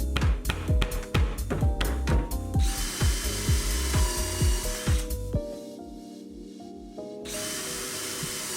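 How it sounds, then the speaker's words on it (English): A power driver sinks screws through a half-inch plywood back panel into a drawer box, with rapid ratcheting taps and whirring bursts, then a steady sustained drill whine, close and loud with no talk. "I glue and screw the back in permanently."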